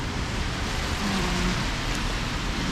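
Light rain falls on a city street in Philadelphia's Chinatown on a mild, rainy day, making a steady, even hiss throughout with no voices.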